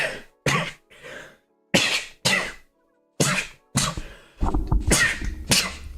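Several short sharp bursts of sneezing or coughing from one person, close and loud, spaced out with silent gaps, ending in a rougher longer burst of noise.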